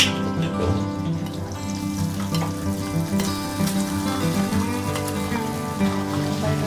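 Food frying in a pan in a home kitchen during a husband-versus-wife cooking contest: a steady, dense sizzle runs throughout, with faint tonal background sound layered over it.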